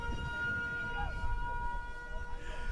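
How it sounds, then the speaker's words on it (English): A steady, droning siren tone holds over a noisy, crowded rugby stadium background, with a faint voice underneath. "As the siren goes,"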